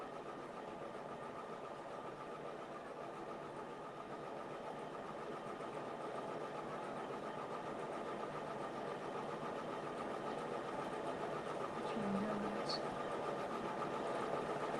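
An embroidery machine stitches a mug rug with a steady, continuous mechanical whir that stays even throughout, under occasional talk.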